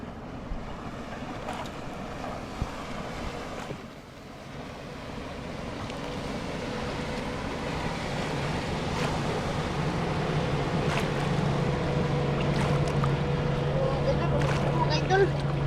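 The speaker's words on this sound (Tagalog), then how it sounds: "Isang praso na. speedboat to." A speedboat motor drones steadily over choppy water during heavy rain, wind and waves washing around it, the engine hum growing stronger toward the end, with voices talking over it.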